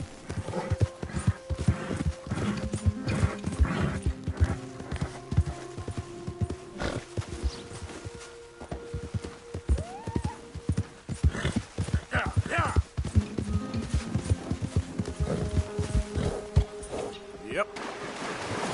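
A horse gallops in Red Dead Redemption 2, with rhythmic hoof clops pounding throughout, a brief whinny near the middle, and a rider's voice and faint water or wave ambience mixed in around the hoofbeats.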